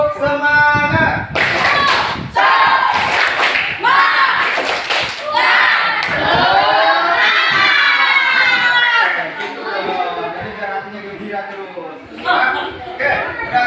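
Group of teachers performing a rhythmic "tepuk semangat" clapping chant together in a classroom workshop, loud patterned claps with voices chanting and cheering throughout.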